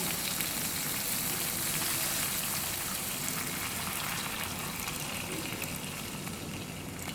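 About two to two and a half cups of water pour into a pan of chicken kofta curry, making a steady close hiss and splash throughout, with no voices.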